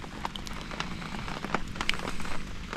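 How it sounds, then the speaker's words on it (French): Rain falls and drips indoors, a soft steady patter with scattered sharper drips and faint crackles, fairly quiet throughout. "on va fermer parce qu'il pleut à l'intérieur"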